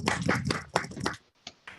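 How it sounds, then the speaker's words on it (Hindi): A few people clap for a student, several quick bursts of hand claps that fade, then two lone claps follow in near silence. "सभी लोग इस बच्चे के लिए जोरदार ताली बजाओ प्लीज"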